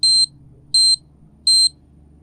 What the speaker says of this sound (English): upon receiving it will emit a high-pitched tone